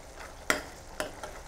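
Rice and spices being stirred in a cooking pot for nasi kandar, three quick scraping clinks of a spoon against the pot over a faint sizzle.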